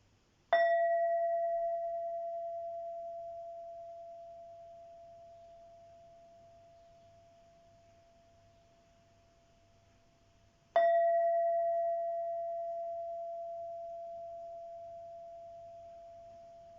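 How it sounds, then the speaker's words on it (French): Two struck singing-bowl or bell tones ring out about ten seconds apart, each a clear bright strike followed by a long, pure, slowly fading hum in an otherwise quiet room. "je pratique quelques sons de cloche"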